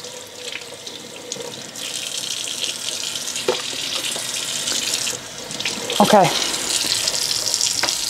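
Hot water runs steadily from a kitchen tap while hands are rinsed, with splashing and clinks of the sink. A short spoken word comes partway through, and there is some brief handling noise near the end.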